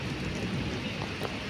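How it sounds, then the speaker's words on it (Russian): Steady rain falling close by, a dense, even hiss that runs continuously without any voices. "наконец-то нормальный дождь"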